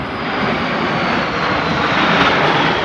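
A Frecce Tricolori solo jet roars past at an airshow, its loud, broad engine noise holding steady and swelling slightly as it passes.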